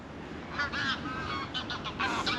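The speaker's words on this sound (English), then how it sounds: "Just geese." Geese on a carp fishery lake give a series of honks, some closer and some farther away, over a steady outdoor background hiss.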